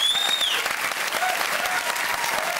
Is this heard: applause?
yes